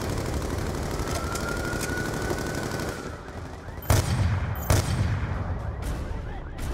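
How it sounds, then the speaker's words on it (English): Sniper gunfire on an overpass during a Call of Duty Black Ops 2 campaign battle: two sharp, loud shots ring out over a steady din of combat noise and distant firing. "Taking fire from snipers on the overpass!"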